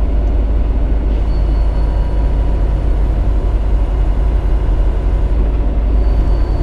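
A semi truck's Jake brake holds back the rig on a 4-6% downgrade: a loud, steady low engine rumble and drone that runs unbroken throughout, with no talking.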